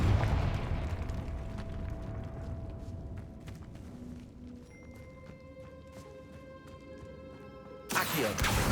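A Confringo blasting spell in Hogwarts Legacy, set in a tomb. The clip opens on a rumbling blast that decays into scattered crackles and ringing tones, then a second loud burst hits near the end.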